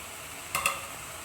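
A spoon makes two quick scrapes while stirring red chilli powder, salt and turmeric into onion-tomato paste frying in oil for shahi paneer, a brief, soft sound over a low background hiss, with no talking.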